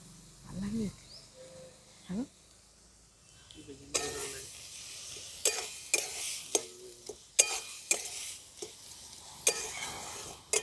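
Sugarcane jaggery is worked into coconut in a pan, the spoon giving sharp, irregular scrapes and knocks against the metal, quiet at first and then more frequent, with faint background noises between strokes.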